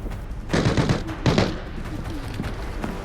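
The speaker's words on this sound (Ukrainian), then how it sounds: "Стріляють сюди." Bursts of gunfire from the shooter game Arena Breakout: Infinite, with two louder volleys around the half-second and one-and-a-half-second marks among scattered shots, all fairly distant and at moderate volume.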